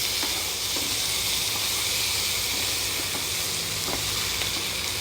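Water poured into a hot pan of crab curry gives a loud, steady hiss of steam and sizzle that holds evenly throughout, close up and without voices.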